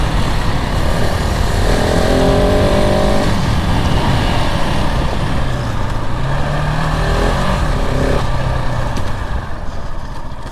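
A 2022 KTM 690 Enduro R single-cylinder motorcycle engine drones loud and close while riding, with sustained throttle, rising and falling revs, and strong wind rush throughout.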